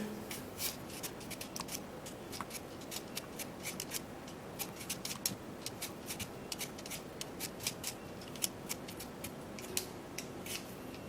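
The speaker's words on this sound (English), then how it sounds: "we're going to peel off the potato" A potato is peeled by hand, giving a quiet, close run of rapid scraping strokes in a steady, uneven rhythm over a soft background hiss, with no voices.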